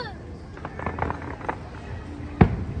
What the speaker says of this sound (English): You can see the Epcot Harmonious fireworks right here from outside Sebastian's Bistro.